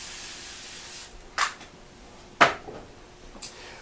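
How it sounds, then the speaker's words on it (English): Three short hissing bursts from a spray can, spaced about a second apart, the middle one strongest, in a quiet room. "So we're going to use this spray here."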